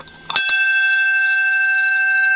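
A single bright strike of a solid brass bell rings out sharply, then sustains with a clear, pure tone that lingers and slowly fades, close and loud.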